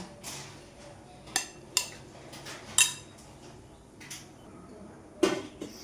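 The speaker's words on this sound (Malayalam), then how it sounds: "മുട്ടയും ഉരുളക്കിഴങ്ങും എല്ലാം കൂടി മിക്സ് ചെയ്തേക്കുന്നത് ഇതുപോലെയാണ്" Eggs and potatoes being mixed together in a bowl, a utensil giving off scattered sharp clinks and taps against the dish at an uneven pace, with no one talking.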